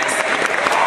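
A convention audience at a closing ceremony gives a brief, dense burst of applause for guests that lasts under a second.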